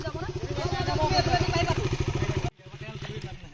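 A heavy motorcycle engine labours on a hill road with a steady, close, pulsing chug that drops in level partway through, while someone talks over it.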